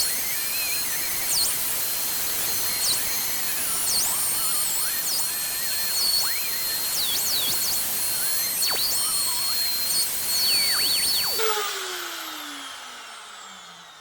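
A power saw cuts binding strip for the front of a guitar body, a steady, fairly loud whine running for about eleven seconds before the motor winds down with a falling tone into quiet.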